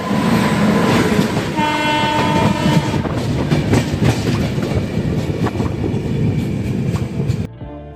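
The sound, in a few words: oncoming train passing on the tracks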